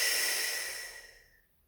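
A Pilates instructor draws one long, steady breath in, close and fairly loud, with a breathy hiss that fades out toward the end.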